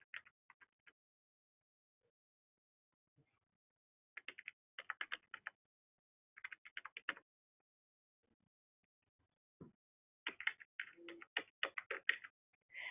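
Client details being typed on a computer keyboard in quiet bursts of rapid clicking keystrokes separated by short pauses, close and clear with no speech.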